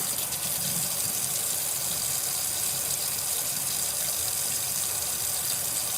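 Tap water running steadily into a sink while doll heads are scrubbed clean, a constant, moderately loud hiss and splash with no voices.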